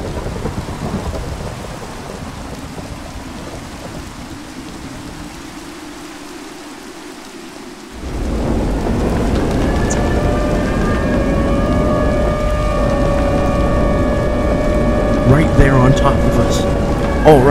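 Thunder rumbles under steady heavy rain in a tornado survival video game, with the storm swelling louder about halfway through as sustained tones rise over the downpour.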